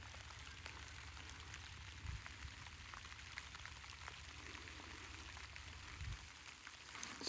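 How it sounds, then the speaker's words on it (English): Rain falling in Beaver Creek State Park, Ohio: a faint, steady patter of drops on surfaces with soft dripping and occasional low thumps, continuous throughout with no voices. "as you hear, it's raining."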